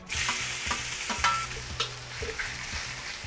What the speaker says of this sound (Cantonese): 首先炒香咗啲冬菇先，